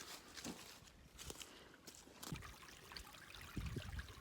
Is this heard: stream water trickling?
yes